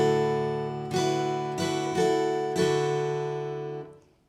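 Acoustic guitar strumming one bar of a song in drop D tuning, a few clean down-and-up strums over sustained ringing chords, close and moderately quiet, fading out at the end.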